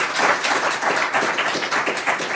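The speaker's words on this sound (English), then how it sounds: "Please give them a round of applause." Audience at a foreign relations council panel event giving a round of applause, a dense, sustained wash of many hands clapping throughout, fairly loud and close, with no speech.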